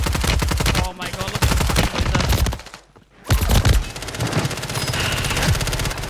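Rapid bursts of automatic gunfire in a first-person shooter game, loud and dense with a brief lull partway through before the shooting resumes.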